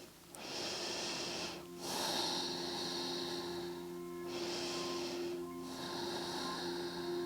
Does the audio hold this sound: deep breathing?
yes